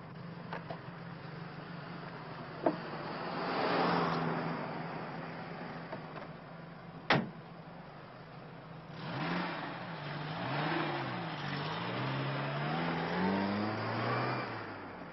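A car engine revs and pulls away nearby, rising in pitch through gear changes, with a couple of sharp door-like thuds early on and no talking.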